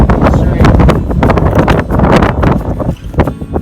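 Strong wind on an Appalachian Trail mountain path, blowing in a loud, steady rush with gusting buffets against the microphone throughout.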